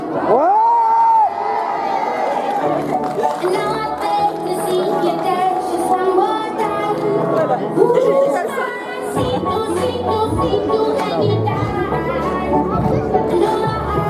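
Crowd at a film premiere cheering, whooping and shouting in a loud, dense wash of voices, with a presenter's amplified voice rising over the din and music faintly underneath.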